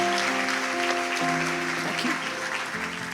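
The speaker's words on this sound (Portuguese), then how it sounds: "Dê um aplauso para Jesus, por favor." A church congregation claps together in a steady, dense burst of applause, moderately loud and sustained, with a tonal hum and faint voices underneath.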